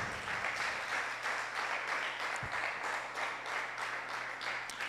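A church congregation breaks into sustained applause, a dense, even wash of many hands clapping filling the room for several seconds.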